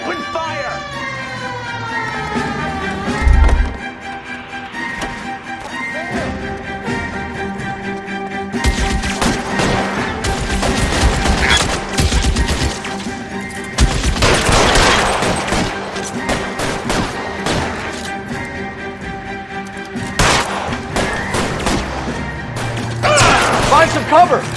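Shootout gunfire in L.A. Noire, with dense bursts of rapid shots and crashes over sirens and engine noise, loud and close, with people shouting between volleys.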